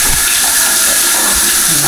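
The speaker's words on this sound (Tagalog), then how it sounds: "Lakas yung shower nito eh." A strong shower runs in a campsite restroom at Malagundi Point, Lobo, Batangas, giving a loud, steady hiss of spraying water, close and unbroken, with faint talk beneath it.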